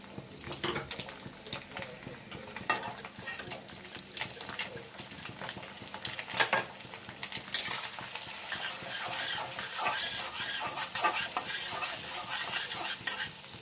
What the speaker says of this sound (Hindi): एग को फ्राई कर लेते हैं